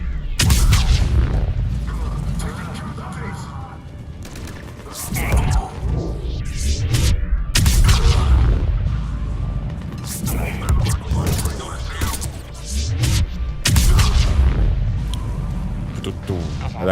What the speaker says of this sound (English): I like that biotic explosion